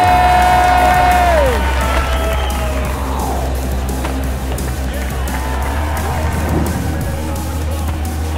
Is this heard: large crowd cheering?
yes